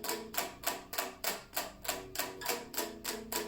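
A voice imitates a Gojira-style guitar chug, a rapid series of about a dozen evenly spaced percussive bursts in a steady rhythm, close and distinct with nothing else behind them.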